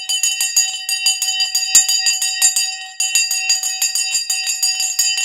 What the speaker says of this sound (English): let's ring the bell first